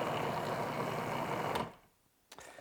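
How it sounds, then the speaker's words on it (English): Cream churning in a butter-making machine as the butter solids separate, a steady broadband sloshing whir that cuts off abruptly after about a second and a half, followed by near silence and a brief clatter. "Do you hear the sloshing sound?"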